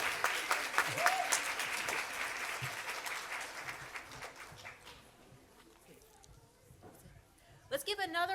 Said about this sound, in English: Let's give another round of applause to Kyrie Williams and Dupre Kelly